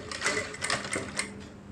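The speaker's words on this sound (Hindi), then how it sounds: "और फिर इसके जड़ में एकदम सिंगल बूट से सिलाई लगा दीजिए, बिल्कुल इसके जड़ में।" Sewing machine running a single straight stitch along cloth piping, a brief close whirring with a fast, steady mechanical pulse and no talk.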